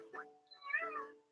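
A couple of short, bright cat meows from a Game Boy Advance game, the second longer and rising, with a faint steady tone underneath.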